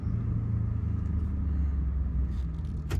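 A police Camaro's V8 holding a deep, loud, steady rumble as it revs for a tire burnout, close up, with a sharper rise in the last moment.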